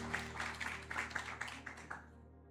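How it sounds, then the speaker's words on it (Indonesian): An audience at a building dedication ceremony in Medan claps together, a dense patter of hands that holds steady for about two seconds before quickly dying away, with a faint hum running underneath. "Boleh tepuk tangannya hadirin sekalian."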